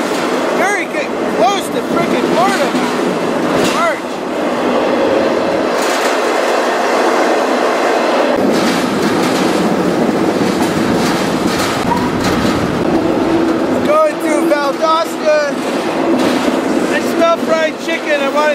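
A fast train runs along its rails in a steady, loud rumble with rhythmic clickety-clack, and a voice talks over it at times.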